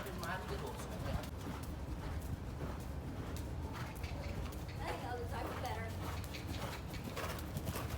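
Horse hooves clip-clop steadily on the ground during a ride at a lakeside scout camp, under constant wind or movement noise, with people talking over it.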